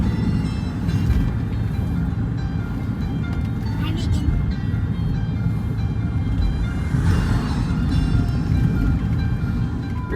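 Cabin hum of a 2011 Jeep Liberty KK rolling on brand-new tires, a steady low road and engine drone throughout while a person talks over it.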